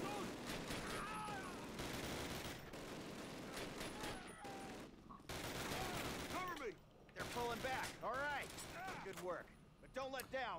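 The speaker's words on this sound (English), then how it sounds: "Oh, now I can just use machine gun." Sustained machine gun fire in a Call of Duty World War II battle, dense rapid bursts close by, with people shouting over the din.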